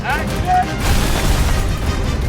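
A huge film stunt explosion for a Bond movie sequence in Morocco roars out as a loud, broad, sustained boom and rumble that fills the whole short stretch.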